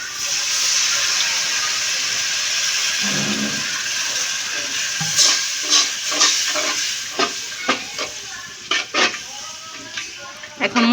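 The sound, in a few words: water added to frying spices, sizzling and steaming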